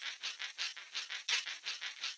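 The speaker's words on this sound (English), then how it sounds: "I made this shaker sound" Processed pick scratches on guitar strings, high-passed, compressed and grain-delayed, form a bright shaker-like shuffle: about a dozen quick, hissy strokes in a steady rhythm, faint and isolated, with no low end and no voices.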